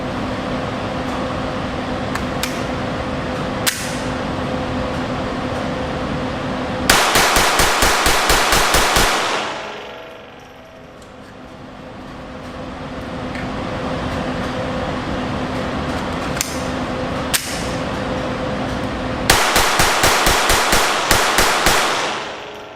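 Rapid fire from a Glock 44 handgun outdoors: two fast strings of sharp, closely spaced shots, each a rattling burst of a second or two, with quieter single reports and a hissing lull between them.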